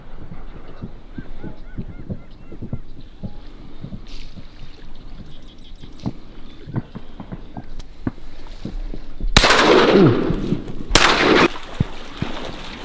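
Two sharp, loud shotgun blasts a couple of seconds apart ring out on a duck hunt, over a steady background of honking geese and other waterfowl calls.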